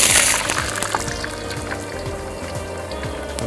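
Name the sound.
oil poured back into a wok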